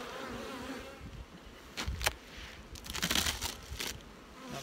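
Honey bees buzz in a hive box during a beekeeper's inspection before the honey pull, a close, constant droning hum broken by sharp crackles of frames being shifted.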